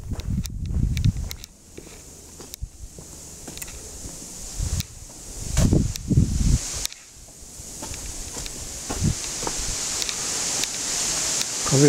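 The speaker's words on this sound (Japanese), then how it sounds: "風が吹いとるけど" Wind rustles tree leaves on a wooded ancient keyhole-shaped burial mound, swelling in gusts and then easing, with scattered footsteps crunching on the ground.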